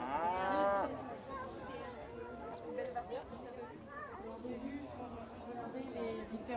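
Cows mooing at the Bourail agricultural fair, a loud drawn-out moo up front followed by another fainter low call, over a murmur of crowd chatter and a person talking.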